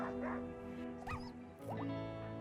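A pet retriever dog named Hannibal in the video game Rimworld gives a few short yelps and whimpers over steady background music, at a moderate distance.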